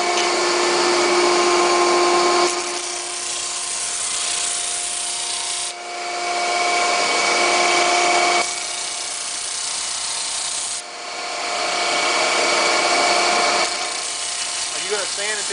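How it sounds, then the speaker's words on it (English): Wood on a segmented bowl's petal ring being sanded: a steady, close abrasive hiss that runs in three long passes with brief dips between them, while people talk over it. "Are you going to sand until you get your point right showing on there?"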